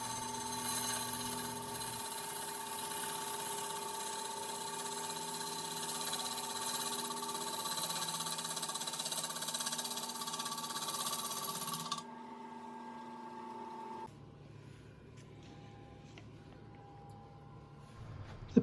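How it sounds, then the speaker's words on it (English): A wood lathe spins a bowl while a bottoming bowl gouge cuts the lower base, a steady motor hum with a hissing cut that stops abruptly, leaving a quieter hum afterward; no talking is heard. "I actually use a bottoming bowl gouge here in the very lower part of the base, just so I can ride the bevel nicely in this area only"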